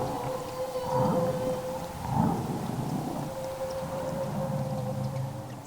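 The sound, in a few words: long operatic whale feeding call recorded underwater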